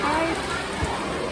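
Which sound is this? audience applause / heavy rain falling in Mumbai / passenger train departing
heavy rain falling in Mumbai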